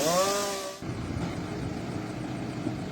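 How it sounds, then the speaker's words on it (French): A chainsaw cuts sugarcane in a field. A brief rising engine whine gives way to a steady, rough, loud buzzing drone that continues to the end. "Cette opération est effectuée à l'aide d'une tronçonneuse."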